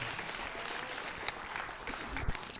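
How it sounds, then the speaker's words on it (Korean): Audience at a workshop opening ceremony gives a round of applause, a moderate steady patter of clapping lasting a few seconds with a couple of sharper claps near the end. "박수 한번 다시 부탁드리겠습니다"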